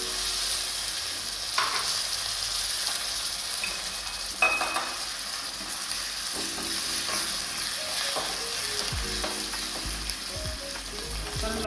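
Mustard seeds, asafoetida and curry leaves sizzle continuously in hot oil for idli sambar, a close, steady frying hiss with scattered crackles and a few soft utensil clinks.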